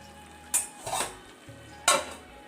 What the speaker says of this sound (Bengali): চলো এটাকে নাড়াচাড়া করে ঢাকা দিয়ে দিলাম